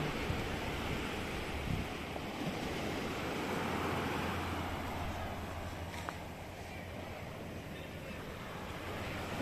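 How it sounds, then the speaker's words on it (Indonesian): Ocean surf washes steadily onto the beach at Clearwater Bay, a broad continuous rush mixed with gusty wind noise on the microphone, with no clear individual wave breaks. "Sudah sampai di tepi pantai, Clearwater Bay."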